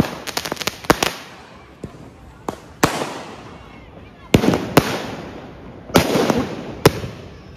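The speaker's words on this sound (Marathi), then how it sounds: "आता दीपक भाऊ बॉम्ब लावतायत, पण तो उभा नाही राहते" Sutli bomb firecrackers explode during Diwali celebrations: a run of sharp, loud bangs and crackles at irregular intervals, some close and some farther off, with people talking and calling out between blasts.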